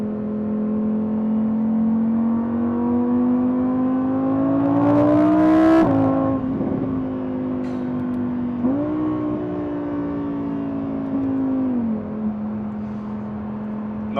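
Lamborghini Huracan Evo's naturally aspirated rear-mounted engine drones steadily in eco Strada mode on Dubai roads, pitch climbing gently, dropping sharply at one gearshift, then rising and falling through several more shifts, loud and close with no talk.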